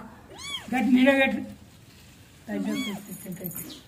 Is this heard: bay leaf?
no